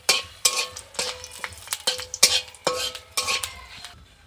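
Bay leaves and chopped dried chilli fry in hot mustard oil in a pan, with repeated utensil scrapes and clinks over a light sizzle at an uneven rhythm.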